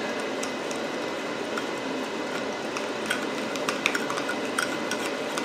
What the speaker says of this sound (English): I'm gonna take my spoon and kind of mix that all up.